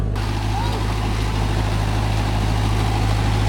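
A tractor engine idles nearby, a constant low throbbing drone with a steady hum that holds evenly throughout.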